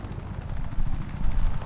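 A helicopter in the video game Just Cause 3, a loud, steady rotor thump and rumble filling the whole short moment.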